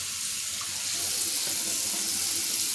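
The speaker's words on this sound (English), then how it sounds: "run your hand under cold water" Cold tap water runs steadily from a faucet over a hand at a sink, a close, continuous broadband splashing rush that stays even throughout with no voices.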